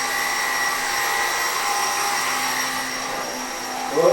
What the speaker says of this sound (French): on peut pas faire aller l'aspirateur en même temps parce que Marley en a peur.